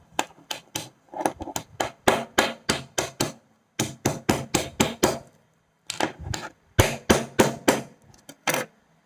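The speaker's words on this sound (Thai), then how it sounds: "เดี๋ยวลองเคาะตรงนี้ดู" Knuckles or a tool knock repeatedly on a ปูใบ้ crab's shell, giving close, loud, sharp taps in quick rhythmic bursts separated by brief pauses.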